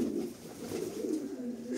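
Pigeons cooing close by, soft low throaty coos rolling continuously with no one talking.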